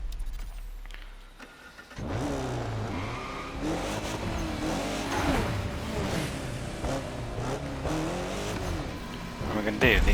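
A Lancia Delta HF Integrale in The Crew Motorfest, fitted with a racing body kit, drives after a quiet opening, its engine droning loud and steady with revs rising and falling and tyres squealing, while someone talks over it.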